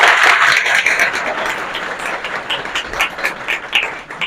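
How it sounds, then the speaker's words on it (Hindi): An audience applauds to welcome a successful SSC CGL candidate, now an income tax officer, with dense, steady clapping that stays loud for several seconds, uneven bursts rising and falling. "जोरदार तालियों के साथ स्वागत करेंगे।"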